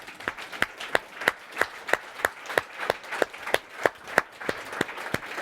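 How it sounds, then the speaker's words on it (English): An audience at a panel discussion claps in a steady, moderately loud round of applause, sharp individual claps repeating evenly throughout with no voices over them. "Early applause."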